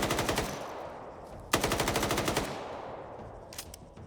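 Automatic machine gun fire in a tactical military shooter game, two long rapid bursts of evenly spaced loud shots with a short pause between them, followed by a couple of fainter isolated cracks, no talking over it.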